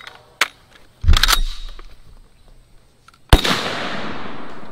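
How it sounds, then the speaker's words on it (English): An M1 carbine rifle fires into ballistic gel: two sharp, loud shots spaced a couple of seconds apart, each followed by a short echoing decay, with faint clicks in between. "let's put three rounds through the gel"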